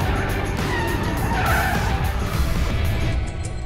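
A Formula E electric race car skids into a spin at a hairpin, a loud sustained tire scrub and squeal lasting several seconds over heavy rumble, heard close from the car.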